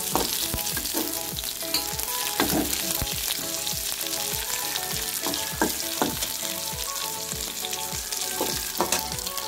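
Shallots, ginger, garlic and curry leaves fry in hot oil with mustard seeds and chana dal for a moringa flower poriyal, giving a steady, dense sizzle with small crackles and pops throughout, close and without talk.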